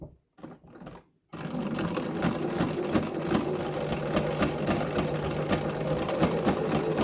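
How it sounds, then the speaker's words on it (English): A sewing machine stitches across the ends of a fabric lanyard, running steadily and close for several seconds after a brief stop-start burst of stitching. "Slide it down and then sew up the ends."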